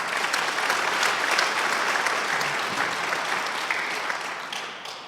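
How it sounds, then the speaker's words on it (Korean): A church congregation applauds loudly during a Korean Sunday retirement and ordination service, giving dense, continuous clapping that holds steady for about five seconds before tapering off. "우리 나오실 때 큰 박수로 맞이하도록 하겠습니다."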